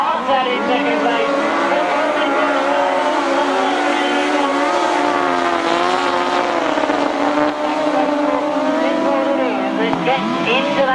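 Grasstrack racing motorcycles from a 1992 British Masters qualifier roar close past, engines wailing continuously at high revs with a shifting pitch, while a commentator talks over them throughout.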